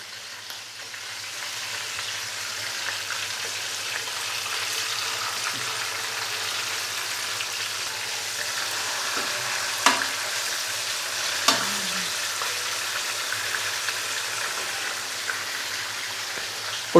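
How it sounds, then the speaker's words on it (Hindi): Chicken pieces fry in a pan for Arabian mandi, giving a steady, moderately loud sizzle throughout with a few brief clinks and stirring knocks near the middle; no one speaks. "और दूसरी साइड को भी 5 से 6 मिनट के लिए फ्राई कर लेंगे।"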